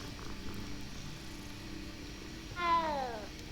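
A cat meows once near the end, a short clear rising-falling call over quiet ambient game sound in Keenbridge in Hogwarts Legacy.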